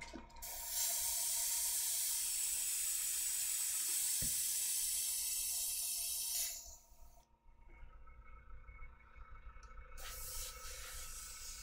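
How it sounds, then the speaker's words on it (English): Water runs into a hobby airbrush hopper to rinse out paint, a loud steady hissing spray for about six seconds, then quieter trickling and faint clinks, with a short spray burst near the end. "So I'm rinsing out the hopper just with water."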